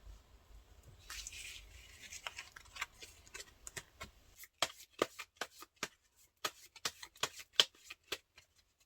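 Tarot cards are shuffled with a soft papery riffle, then drawn one after another in a quick run of crisp, close snaps and taps in an otherwise quiet room.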